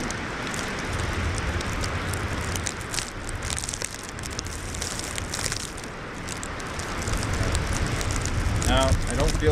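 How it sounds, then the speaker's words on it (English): Steady wind from a winter storm roars and buffets the microphone, swelling into a stronger gust near the end, with a faint voice-like murmur underneath. "There's the wind gust."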